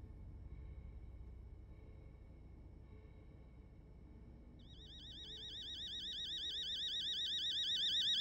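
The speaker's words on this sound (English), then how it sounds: "Oh, I hate alarms." An alarm rings in the horror video game Fears to Fathom: Home Alone, a warbling electronic tone that starts partway through and grows steadily louder over a low background rumble.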